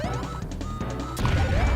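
The extra life power-up in Super Bomberman 5 plays as a short, loud electronic chime over busy video game music, with a bright burst partway through.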